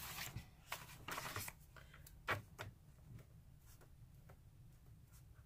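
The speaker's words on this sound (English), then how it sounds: "I'm going to write something new." A pen writes in a paper journal, giving soft scratchy strokes in short intermittent bursts with pauses between them, close and quiet.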